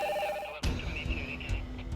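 A telephone rings with a brief electronic trill that cuts off abruptly, followed by a louder burst of rustling room noise.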